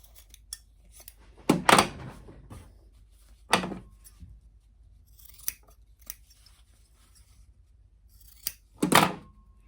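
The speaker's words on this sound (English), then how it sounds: "We're gonna cut down our bulk here and then flip right side out." Fabric scissors snipping down seam bulk while sewing overalls, with a few distinct close cuts spaced apart and small handling knocks between them in a quiet room.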